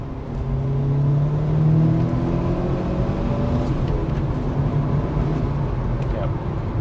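A stock 1998 Mitsubishi Evo 5 engine pulls under acceleration, a steady rising drone with harmonic whine that holds loud and close through the whole stretch, with voices speaking over it inside the car.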